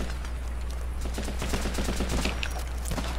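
Rapid gunfire in the online shooter Running With Rifles, fired from a rooftop in the Keepsake Bay map, a fast run of sharp shots over a steady background hum with no talking.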